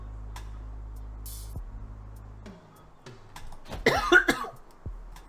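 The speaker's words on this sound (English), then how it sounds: "I've been suffering with a nasty cough for a couple of weeks now" A single harsh cough from someone with a lingering chesty cough, loud and close, landing after a stretch of quiet ticking and faint clicks.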